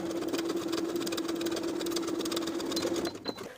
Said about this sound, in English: sewing right along the edge of the lining with a 3/8 inch seam allowance